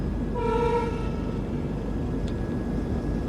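A long train on an Indian railway line sounding a brief horn toot, followed by a continuous low rumble of wagons rolling past nearby, steady and loud throughout.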